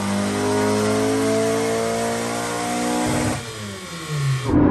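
A Honda Civic EP3 engine accelerates while the car is driven, heard from inside the car. The rising engine note climbs steadily, drops at a gear change and then starts to build again.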